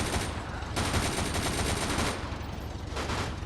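Rapid bursts of gunfire in the zombie shooter game Unkilled crackle in dense, continuous volleys, loud and busy, with no voices over them.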